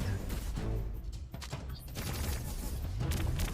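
Gunfire in a video game battle: dense, continuous bursts and booms fill the whole stretch, loud and busy with mechanical clatter, without any clear voice over it.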